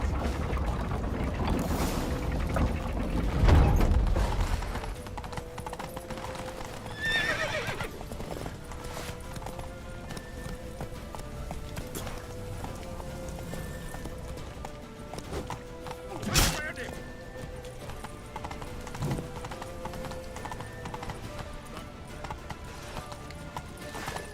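Horses gallop with rapid clip-clopping hooves and let out a loud whinny during a chase scene in The Witcher 3: Wild Hunt, with game music and shouting voices layered over the steady hoofbeats.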